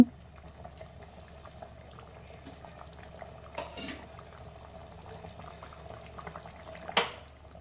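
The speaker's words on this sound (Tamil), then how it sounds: "இது ஒரு போட்ட உடனே 2 நிமிஷம் கொதிச்சா போதும், இறக்கிடலாம்." Egg gravy simmers in a pot on a stove with a soft, steady bubbling, quiet and close, broken by a couple of light clinks.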